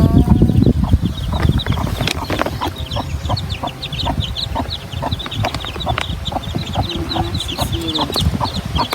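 Chickens cluck over and over at a farmyard nest with eggs, a busy run of short close calls and some low rumbling clucks that carry on steadily throughout.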